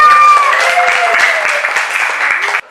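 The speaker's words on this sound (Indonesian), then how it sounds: "Coba beri tepuk tangan." An indoor audience claps at a gathering, a dense, loud burst of applause that holds steady before cutting off abruptly, with a voice briefly audible at the start.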